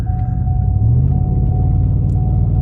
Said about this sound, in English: my truck's running